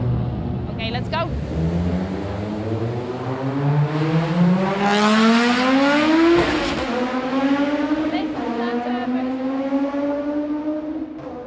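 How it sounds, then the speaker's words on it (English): A Group B rally car accelerates hard past the listener, engine climbing through gears with sharp rasping revs and crackling shifts, loud and close, some talk underneath. "you could hear a Group B car come ripping past you at a rally"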